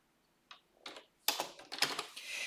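Several quick bursts of keystrokes on a computer keyboard, starting sparse and building into a denser run of close, crisp clicks.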